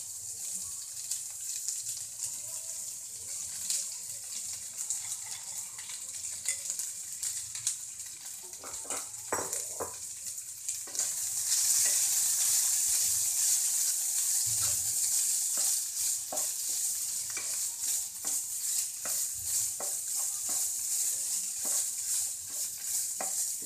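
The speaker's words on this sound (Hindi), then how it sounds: "इसके बाद हम डालेंगे इसमें राइस।" Rice being stir-fried in a pan for a Schezwan triple fried rice: steady hissing sizzle that swells louder midway, with intermittent scraping and clinking of a spatula stirring the grains.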